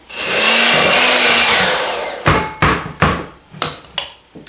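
Electric mixer whirring steadily through sugar cookie dough with vanilla extract for about two seconds, then a series of sharp knocks as the beaters are tapped against the bowl, loud and close with no talking.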